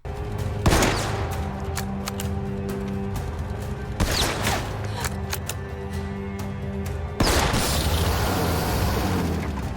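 Gunfire from a war film scene, with loud bursts near 0.7, 4 and 7.2 seconds over a dense, continuous battle backdrop, heard alone without talk.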